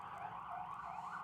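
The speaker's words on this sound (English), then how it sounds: "Pardon the sirens." An emergency siren wails steadily in the distance, its pitch rising and falling in a smooth, continuous cycle, fairly faint.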